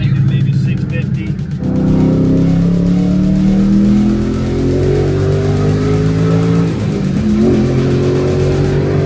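Supercharged Coyote V8 in a Ford Mustang running on 93 octane, loud and near, the engine revving up with rising pitch over several seconds while voices talk over it.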